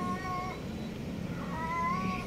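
A cat meows twice outdoors on a street corner, wary of people, an orange cat, two drawn-out plaintive calls at moderate distance with a pause between, no talking.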